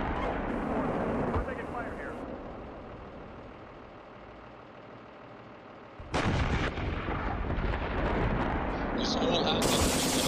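Dense battlefield gunfire from a shooter game, loud bursts and rolling booms crowding a continuous barrage, easing briefly mid-way before surging back even harder, with voices talking under the din.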